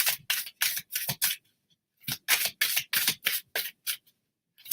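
Soft, worn tarot cards being shuffled by hand, a run of crisp riffling bursts in two quick batches separated by a brief pause, close and loud with no talking.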